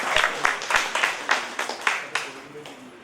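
An audience claps at an Assamese honours ceremony as a guest is welcomed onto the stage. The clapping is loose and uneven, with separate crisp claps that taper off, and a voice is heard alongside it.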